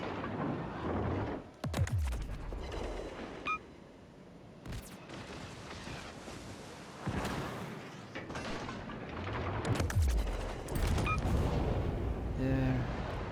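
Starship rear guns blaze in a Star Trek space combat game, a string of sharp laser-like bursts and booming impacts scattered across the stretch over a steady wash of engine and battle noise.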